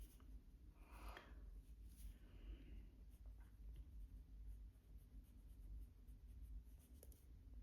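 A pen writes by hand in a paper planner, a soft scratchy scrawling in quick strokes close by, with no talking.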